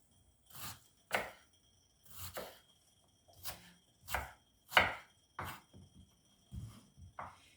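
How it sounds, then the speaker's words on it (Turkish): A knife slices onions thinly on a board in separate bursts, about a dozen crisp thuds in short clusters, close and fairly quiet, with no talking. "Yemeklik doğrar gibi böyle ince ince soğanlarımı doğruyorum."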